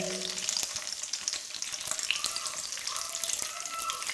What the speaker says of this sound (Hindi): प्याज हमने फ्राई कर लिए हल्के से